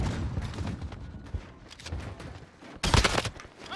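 Gunfire in the shooter Warzone: dense bursts of shots, some distant, with a loud close volley near the end, mixed with game noise and a brief voice.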